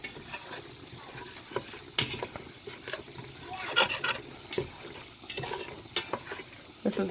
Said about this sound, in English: we're going to go ahead and cook that curry